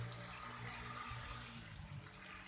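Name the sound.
water bubbling in jeep exhaust pipe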